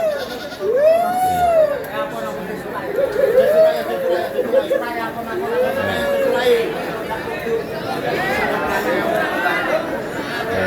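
Several goats bleat in rising, wavering calls at intervals at a livestock market, over a background of crowd chatter and people talking nearby.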